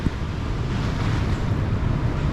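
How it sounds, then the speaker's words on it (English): Big sea waves roll along the Hong Kong waterline in a steady, loud wash of surf, mixed with blustery wind buffeting the microphone and no voices. "Oh, them waves are quite big."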